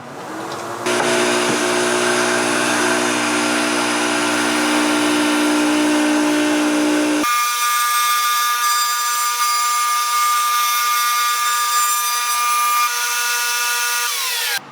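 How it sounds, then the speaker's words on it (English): Handheld router with a 1/8 inch round-over bit spinning up and cutting along wooden edges, making a loud, close, steady high whine that changes pitch midway and holds to the end. "I have my router bit set up with a 1/8 inch round over bit"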